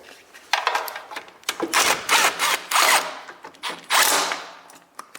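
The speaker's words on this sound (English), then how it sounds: "let me get my gun. My impact gun." Battery or power impact gun tightening bolts on an old Kubota that had sat unused for years, heard as several short, loud, close rattling hammering bursts separated by brief pauses.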